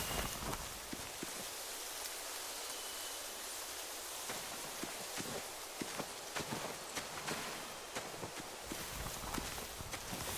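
Horses in The Walking Dead video game, with soft hoof clops and shuffling steps over a constant rain-like wash of ambient noise.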